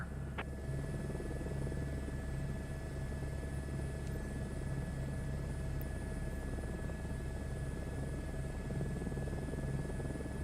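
A helicopter in Microsoft Flight Simulator 2024 drones with a steady low rotor thrum and a thin high whine, holding an even level throughout with no talk.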